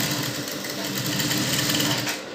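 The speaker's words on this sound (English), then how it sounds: "I'm going to be stitching it down like so." A sewing machine runs steadily, stitching an Ankara fabric strip onto a T-shirt with a continuous buzzing whir that holds for about two seconds, then eases slightly at the end.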